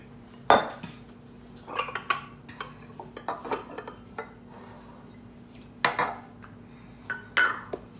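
Banana bread batter stirred in a bowl, with intermittent scraping and clinking of a utensil against the dish in short bursts, close up and moderately loud, separated by quieter pauses.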